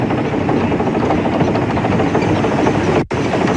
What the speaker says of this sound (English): Sounds like I've picked up a stick as well.